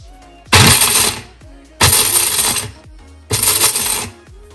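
A kitchen grinder pulverises dry fruits for traditional besan barfi, running in three loud, harsh bursts of roughly a second each with short quiet gaps between them.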